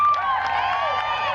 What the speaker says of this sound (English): Yeah, good crowd on hand last night,